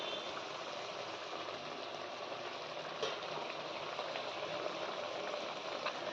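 Tyangra fish curry (machher jhal) simmering on a low flame, giving a steady, even bubbling sizzle throughout with no voices.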